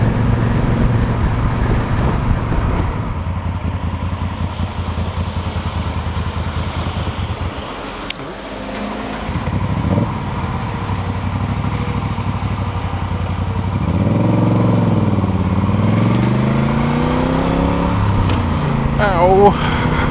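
A motorcycle engine runs on a Route 66 road, its low harmonic drone steady before rising and falling in pitch with revs near the end, close and loud beneath near-constant talk.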